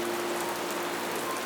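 Steady gentle rain falls in a continuous even hiss with no speech over it.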